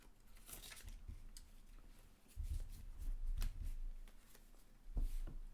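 Playing cards being shuffled during a game, soft riffling and snapping bursts that come in uneven clusters, quiet and close, with brief scuffs and no clear speech.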